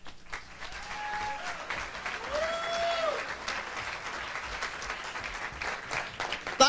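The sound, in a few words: audience applause for a comedian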